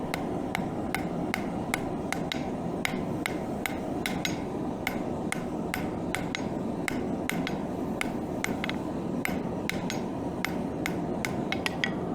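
Hot steel fresh from a gas forge is hammered to forge weld it, a rapid steady series of sharp ringing blows, loud and close, over a constant roaring forge hiss, with no talking.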